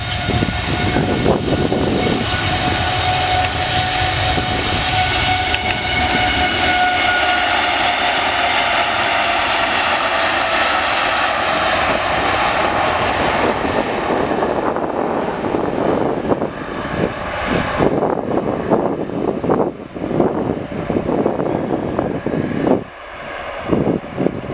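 A Qatar Airways Boeing Dreamliner takes off at Manchester Airport, a loud, sustained jet engine roar with wind buffeting that slowly fades as the aircraft climbs away.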